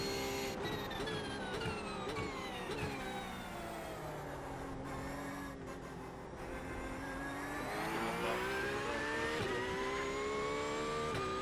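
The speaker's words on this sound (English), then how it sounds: "And then you just floor it and hear that glorious flat 6 scream" A flat-six race car engine in iRacing screams through high revs, its whining tone climbing, dipping briefly at a shift, then rising again, steady and alone with no talk.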